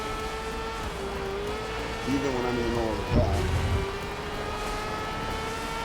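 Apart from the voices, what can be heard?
race car engine sounds in the video game GRID Legends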